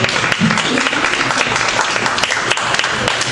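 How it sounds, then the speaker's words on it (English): Audience at a live hosted show gives a burst of applause for Rosie, dense continuous clapping from many hands close by, lasting a few seconds with no talk over it. "Give it up for Rosie"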